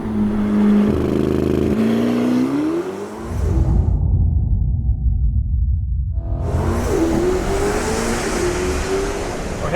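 A 1,064 hp Corvette ZR1 accelerates hard on the Circuit of the Americas track in Austin, Texas, its engine roaring loud and close, dropping briefly at a gear change before climbing again with heavy rumble and wind.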